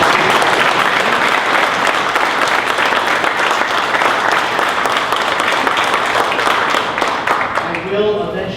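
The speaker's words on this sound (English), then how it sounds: "I want to have just a quick round of applause for those students with me here tonight." Steady applause fills a high school board meeting room for students present, dense continuous clapping from the audience that tapers off near the end as a voice begins.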